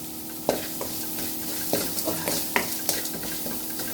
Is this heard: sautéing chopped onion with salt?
yes